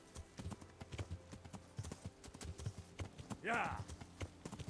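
Horse hooves clip-clop in a steady walking rhythm in the Kingdom Come: Deliverance video game, close and fairly loud, with a brief shout over it near the end.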